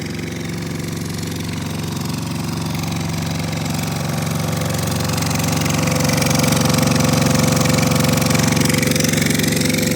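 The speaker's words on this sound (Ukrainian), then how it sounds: "генератор" Power generator running outdoors in a Truskavets street during a winter power cut, a loud, steady droning engine hum that grows slightly louder partway through, with no talk.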